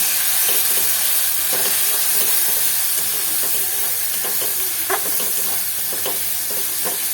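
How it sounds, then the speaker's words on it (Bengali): Turmeric, cumin, coriander and chilli powder sizzle in hot oil while being sautéed and stirred for a Bengali prawn malai curry. The hiss is steady and close, with occasional light scraping from stirring, and no talking. "এতে হলুদ গুঁড়ো দিয়ে দিলাম জিরে গুঁড়ো ধনে গুঁড়ো আর সামান্য একটু লঙ্কা গুঁড়ো দেবো ভালো করে নেড়ে আমি কষিয়ে নেব"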